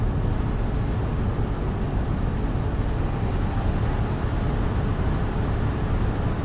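Wind buffeting through an open car window while driving, a constant heavy low roar and rumble that stays loud and unbroken.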